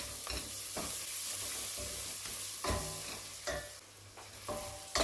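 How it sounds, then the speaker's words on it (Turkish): Vegetables stirred in a pot over steady sizzling, with a spoon scraping and knocking at irregular intervals, close by and without speech. "Tencereme ilave ettim birlikte karıştırıyorum"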